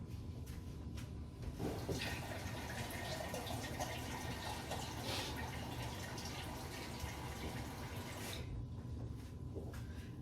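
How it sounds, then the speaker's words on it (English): Liquid pours steadily in a continuous splashing rush for several seconds, then cuts off near the end. "So now I'm going to get 4 more cups of liquid and pour it in."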